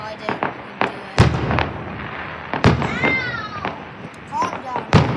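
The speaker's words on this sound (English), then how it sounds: "by where those fireworks were. Right here that you guys see right now" Fireworks at a hotel display burst in a string of sharp booming cracks, about six loud reports spread over a few seconds, with voices talking between them.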